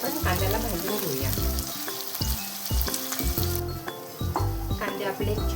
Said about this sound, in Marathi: ब्राऊन कलर येईपर्यंत आपण कांद्याला भाजून घेऊया